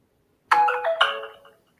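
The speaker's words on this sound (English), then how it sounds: "Oh, that was my phone all loud." A mobile phone ringtone sounds loudly in a quiet room: a short, bright melodic chime of two ringing notes lasting about a second, then silence.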